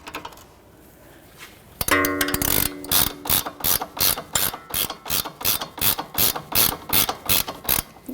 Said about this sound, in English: So we're going to snug it up by hand, and then we'll torque it to the factory specs.